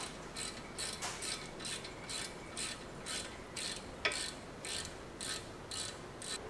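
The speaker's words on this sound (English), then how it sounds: "Grab your socket and tighten those down." A socket wrench ratchets steadily as it tightens the brake caliper bracket bolts on a car, giving quick repeated clicking bursts at close range with short pauses between strokes.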